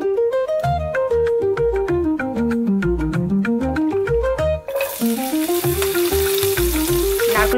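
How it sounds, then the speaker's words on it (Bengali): Coconut pieces fry in oil in a pan, a bright crackling sizzle that rises halfway through, with melodic background music playing throughout. "আমি নারকেলটা ভেজে আগে তুলে নিচ্ছি"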